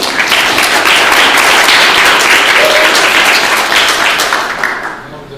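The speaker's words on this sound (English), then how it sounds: "let's give a little applause to Greg and CK for their work this morning." Loud, close audience applause after a morning presentation at a conservation workshop, a full burst of clapping that stays strong for several seconds and then tapers off.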